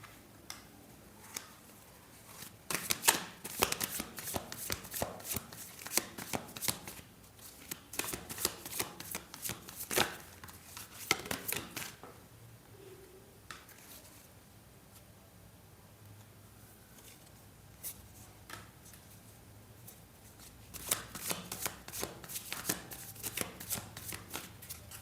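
A deck of tarot cards being shuffled, quiet close riffling and patting in irregular bursts separated by calmer stretches.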